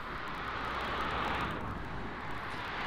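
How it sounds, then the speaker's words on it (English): Aer Lingus Airbus A320-200 jet at Paris CDG airport, a steady loud broadband engine roar that holds evenly throughout, with no voices. "next up, we have the Aer Lingus Airbus A320-200"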